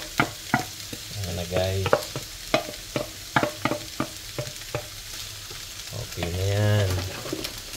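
Potatoes frying in a pan with carrot, under a steady sizzle broken by repeated sharp knocks and scrapes of a utensil stirring, while a person talks briefly over the cooking.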